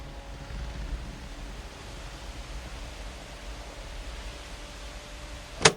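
Wind blowing through tree leaves in a film mix, a soft, broad rushing hiss that stays even and steady, ending in a brief sharp sound.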